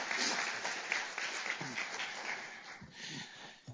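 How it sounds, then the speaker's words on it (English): An audience at a seminar on nonprofit legal issues breaks into a round of applause: dense, even clapping that is fairly faint and holds steady, tapering slightly near the end. "Please join me in giving them all a big round of applause"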